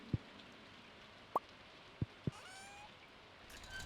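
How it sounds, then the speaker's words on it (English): Green rain falls in Stardew Valley as a faint, steady patter, broken by a few distinct drips and plops at scattered moments, with no talking. "Oh, we got green rain today."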